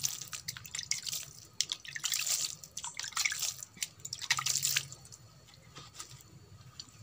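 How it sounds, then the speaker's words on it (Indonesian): Liquid fertilizer splashed and sprinkled over termite nest material, giving a steady run of wet dripping and pattering splashes in short bursts, close and fairly quiet. "teman-teman siram-siramkan pada media ini media sarang rayap siram-siramkan seperti ini"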